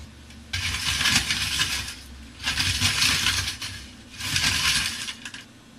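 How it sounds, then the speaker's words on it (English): Three bursts of crinkly, rustling crumpling of tinfoil, each lasting about a second and a half, separated by short pauses; close and fairly quiet. "I can play you a few sounds as to how I got it from being a bit of tinfoil to being a bit of thunder"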